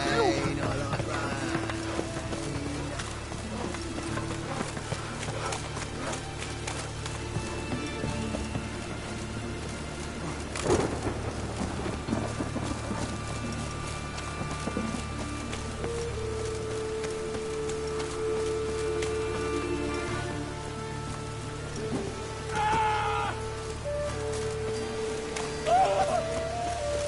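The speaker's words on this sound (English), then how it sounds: "Rain, I like rain." Steady rain hisses through a town in the video game Witcher 3, a constant wash of patter with occasional hoofbeats and voices talking over it.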